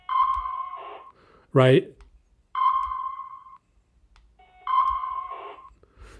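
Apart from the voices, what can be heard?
RavenSDR Android app radar alert tone on detected signal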